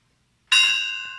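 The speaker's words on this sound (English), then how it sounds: "Let's ring the bell." A single bell struck once to mark a point scored in a word game, ringing out clearly and alone, its bright tone sustaining and slowly fading.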